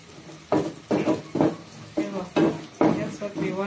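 Onions browning in a pan, stirred in a repeated rhythm of scraping, sizzling bursts about every half second, close and fairly loud, with a steady frying hiss underneath.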